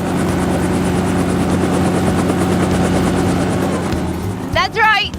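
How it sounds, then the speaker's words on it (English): A helicopter's spinning rotor makes a loud, close, steady throbbing drone that fills the clip, with a voice speaking briefly near the end. "That's right, it's a helicopter. Noisy, isn't it?"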